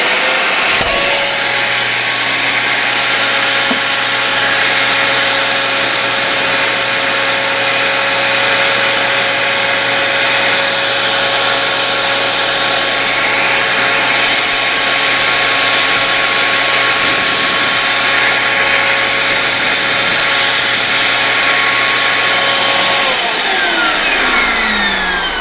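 Vacuum forming machine pulling heated plastic down over a dental model, a loud continuous suction roar with a steady whine that runs for over twenty seconds before cutting off.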